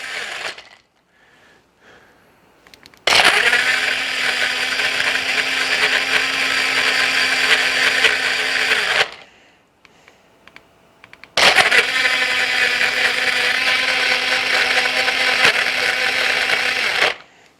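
A BZseed portable USB rechargeable personal blender runs in two loud, steady bursts of about six seconds each, a whirring motor with a bright, gritty buzz, separated by a short quiet gap with faint handling noise.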